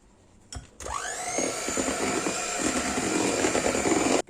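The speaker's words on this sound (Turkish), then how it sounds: "Onları da ekledikten sonra mikserle çırpıyorum." A handheld electric mixer whines up to speed after a click and runs steadily, loud and close, with slight rattling as it whisks cake batter.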